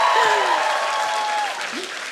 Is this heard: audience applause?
yes